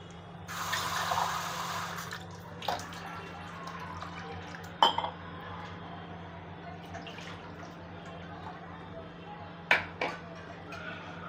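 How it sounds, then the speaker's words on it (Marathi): Water poured into a cooking pot to boil shengole, a steady broadband splashing stream for about two seconds, followed by quieter clinks and drips over a low hum. "त्याच्यामुळे आपण त्याच्यात पाणी जास्त घालूया"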